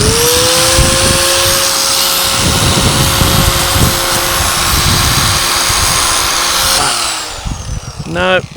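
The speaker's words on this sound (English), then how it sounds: "put the grinder in there" Angle grinder working rust on an e-bike micro camper, a loud steady whine running continuously for several seconds before winding down, with someone talking over the noise.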